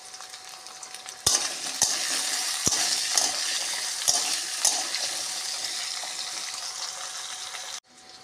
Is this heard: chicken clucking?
no